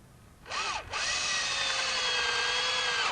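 Power screw gun driving screws into wooden furniture: a short whine that stops, then a sustained steady high motor drone close by.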